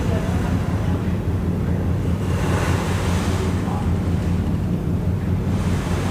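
Waves lap steadily against the hull of the Star Ferry crossing the harbour at Tsim Sha Tsui, a continuous rushing wash with wind buffeting the microphone and a low engine rumble underneath, with no pauses.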